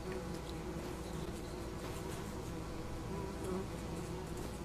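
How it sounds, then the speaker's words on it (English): Steady droning buzz of bees swarming around a honey beehive on a farm in the video game Farming Simulator 25, continuous and fairly close with no talk. "See, here's one of our many beehives."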